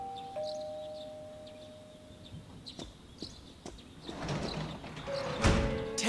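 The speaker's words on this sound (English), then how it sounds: "You hear a doorbell ring." A two-tone electronic doorbell chime in the video game Persona 4 rings twice, separated by a few seconds, over a soft background with a brief rising rumble near the end.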